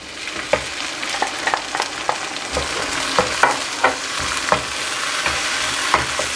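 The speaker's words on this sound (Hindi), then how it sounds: "तो अभी मैं इसमें 2 टमेटो चॉप करके इसमें डाल दूँगा।" Chopped tomatoes frying with lightly browned onions in a pan, a steady close sizzle broken by repeated scraping clinks and clatters of stirring, with no one speaking.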